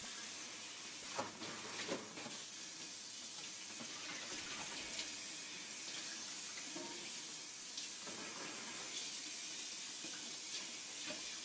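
A kitchen tap runs steadily in a home kitchen while someone waits for the water to get hot, a continuous broadband rush with a few faint clinks near the start.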